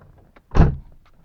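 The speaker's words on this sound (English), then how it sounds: "So you shut the door." The door of a 1986 Chevrolet Corvette C4 shuts with a single solid, close thunk in an otherwise quiet moment.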